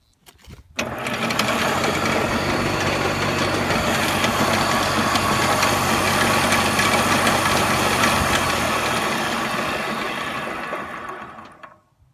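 Electric snow blower driven by a 90 volt DC motor spins up and runs at a steady, loud whine and hum for about ten seconds before winding down to silence.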